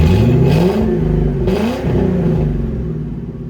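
A Ford F250 pickup engine roars loudly up close, its pitch rising and dipping through a couple of quick revs before settling into a fast, rough idle.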